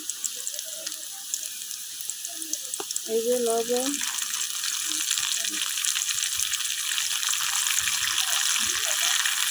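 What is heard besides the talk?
onion frying and sizzling in a pan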